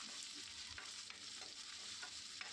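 Garlic, ginger and green chili sautéing in a pan for a coconut fish curry, a steady close sizzle of frying with faint stirring scrapes throughout.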